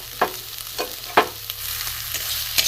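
Egg-stuffed brinjal rolls fry in a pan with coriander leaves, a steady close sizzle punctuated by a handful of brief scraping stirs spaced about half a second apart.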